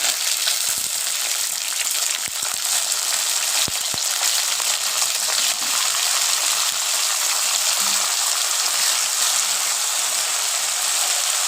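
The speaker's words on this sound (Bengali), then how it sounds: "এইবার বরবটিগুলো ফ্রাই করে নেব।" Yardlong beans frying in hot oil for a mixed vegetable dish, a steady close broadband sizzle running throughout with a few brief clicks and stirring knocks, no talking.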